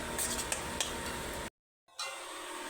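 Stirring and scraping sounds from a pan of mashed eggplant (begun bhorta) as coriander leaves and lemon juice are mixed in, with a steady soft sizzle and clinks of a utensil, cut by a brief silent gap midway.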